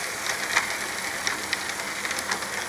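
A train rolls past a railway signal at close range, a continuous hissing rush of wheels and rail noise with scattered light clicks and clatters, no speech.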